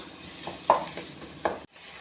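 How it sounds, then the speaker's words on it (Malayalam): A ladle mashes Onam kootu curry in a pot, making a few soft scraping and knocking strokes against a faint background hiss. "ചെറുതായിട്ട് ജസ്റ്റ് ഇങ്ങനെയൊന്ന് തവി കൊണ്ട് ഇതിങ്ങനെയൊന്ന് ഉടച്ചെടുക്കാം"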